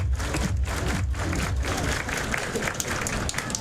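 A large crowd cheers and applauds at a baseball game under the lights, a dense, steady roar of clapping and shouting that carries on throughout.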